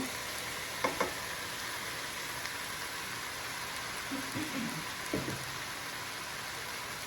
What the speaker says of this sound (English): Next thing I'm going to add is the butter, because I need it to be as hot as it can be.